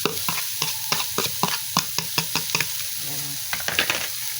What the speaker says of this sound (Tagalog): Lagay natin yung ating sibuyas para ma-toasted din siya.